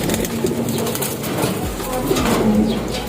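Pigeons coo in soft, low, repeated phrases close by, with faint rustling and background murmur throughout.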